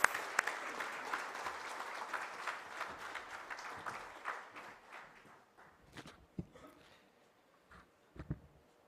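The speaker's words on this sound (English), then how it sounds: "Please welcome him with a roaring round of applause." Audience applause at a ministerial civil aviation conference welcoming a government minister, a burst of clapping that starts strong and dense, then thins out into scattered, fading claps.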